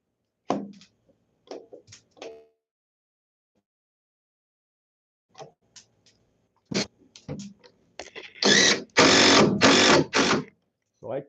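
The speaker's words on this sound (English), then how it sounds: "So I countersink them a lot because I'm going to fill these with wood dowels" Power drill countersinking screw holes in a wooden bar/workbench top of chainsaw-milled live-edge slab, heard as short bursts at first, then a run of loud sustained whirring bursts near the end, with quiet gaps between.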